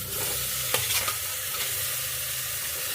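Meat frying in a pan with onion, ginger, garlic and spices, a steady loud sizzle with a few stirring scrapes near the start and no talking.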